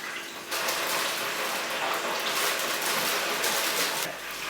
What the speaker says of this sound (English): I'm just going to put some into the boiling water for a few minutes.